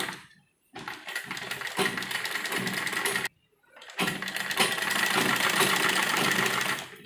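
An electric sewing machine stitches a frock seam in steady, fast whirring runs, starting and stopping twice with brief silent pauses between, loud and close with a buzzing mechanical rattle.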